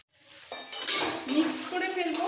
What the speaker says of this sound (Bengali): পুরোপুরি ঝরঝরে হওয়া পর্যন্ত একটু নাড়াচাড়া দিতে হবে